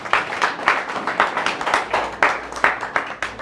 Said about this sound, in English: Can you clap for yourselves for being here?